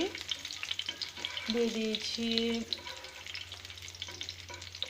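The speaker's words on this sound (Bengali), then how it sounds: "তো কিশমিশগুলো আমি হালকা ভেজে নিচ্ছি" Raisins lightly frying in oil in a pan after cashews, a continuous close sizzle with stirring clatter, while a faint voice or tonal sound briefly rises in the middle.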